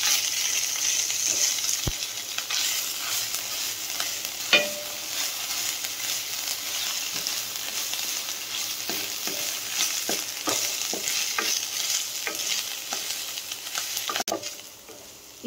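Onions sauté with ginger garlic paste in a pan, giving a steady bright sizzle throughout, broken by occasional scraping and tapping from stirring. No one speaks.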